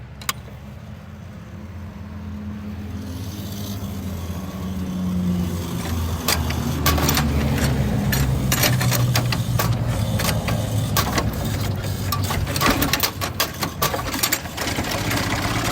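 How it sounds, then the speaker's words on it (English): A Ford Model T engine cranks and catches, rising from a low rumble into a rapid, rattling idle with sharp mechanical clicks and ticks, close and steady through the second half. "Let's start the car."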